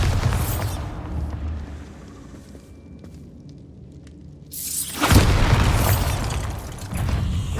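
The Bombarda spell explodes in Hogwarts Legacy with loud, heavy booms and a rumbling aftermath. A second blast hits hard near the end, and no one talks.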